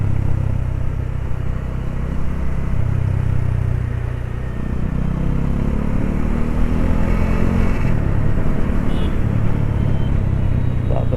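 A Bajaj Dominar 400 motorcycle rides through city traffic, its engine a steady close low rumble with mild revving and surrounding traffic noise, loud throughout.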